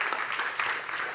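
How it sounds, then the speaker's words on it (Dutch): A brief burst of applause at a lifestyle event, steady and moderately loud, from a mid-sized crowd clapping together for about a second. "Maar even applaus voor Fons."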